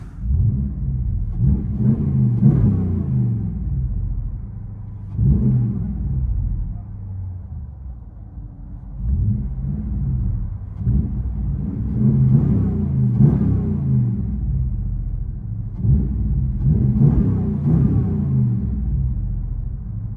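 A 2022 Ram 1500 Big Horn with a 5.7L HEMI V8 and true dual exhaust with Carven R-Series mufflers, heard from inside the cabin: deep, muffled exhaust rumble that swells in repeated rev pulses every few seconds.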